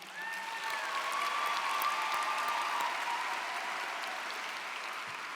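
Steady, moderately loud applause from a convocation audience for staff members, a broad wash of clapping with no talk.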